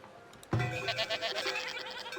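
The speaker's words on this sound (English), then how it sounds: "Goats." A goat bleats loudly in Farthest Frontier after a short quiet moment, a single drawn-out, quavering cry that fades slowly.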